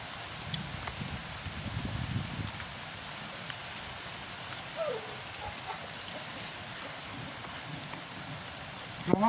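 Steady rain falls in an outdoor cooking setting, a soft continuous hiss of drops with a few louder spatters and a brief knock near the end, with no talking.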